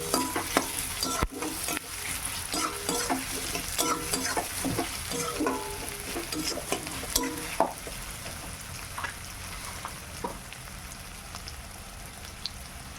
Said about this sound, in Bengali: পেঁয়াজটা লাল লাল করে ভেজে নেই।